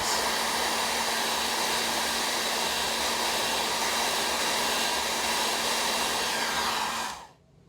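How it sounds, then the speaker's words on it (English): A hair dryer blows steadily at close range with a constant whirring hum, drying a spot on chromatography paper, then cuts off abruptly near the end. "A hairdryer is used to dry the spot for about 20 seconds."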